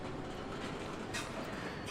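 Slow freight train cars roll past a rail yard, giving a steady, dense rumble with faint wheel clatter that holds at an even level throughout, with no voices.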